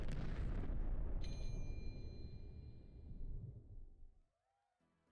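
Gunfire and explosive booms from a video game trailer roll out as a dense, loud barrage that fades over several seconds, followed by a near-silent gap and a sudden burst at the end.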